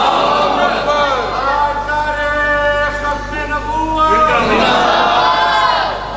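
A large congregation at a religious sermon chanting slogans in unison, with loud, sustained crowd voices swelling and fading in waves.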